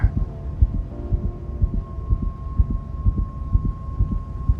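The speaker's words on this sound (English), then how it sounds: "he is listening to her heartbeat" A heartbeat sound effect from a Marvel show thumps in a steady, low rhythm of soft double beats beneath a faint, steady tonal hum, with no talking.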